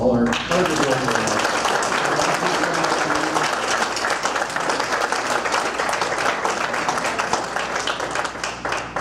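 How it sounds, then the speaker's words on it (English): A large room of people gives a sustained round of applause for broker owner partners at a Remax real estate celebration, dense steady clapping that follows a brief spoken line and continues to the end. "So if we get a big round of applause to all our partners."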